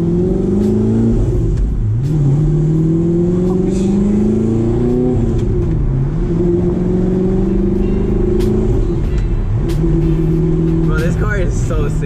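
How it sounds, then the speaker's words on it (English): A manual Audi R8 V8 with a loud exhaust pulls hard and close, its engine note climbing through gears with brief dips at each shift, while a driver talks over the steady roar. "I hope you guys can hear the engine, how good it sounds."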